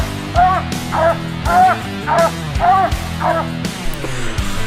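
A coonhound barks at a raccoon it has treed, giving five or six loud, close, drawn-out bawling bays at a steady rhythm, with a low engine-like drone and a few thumps underneath.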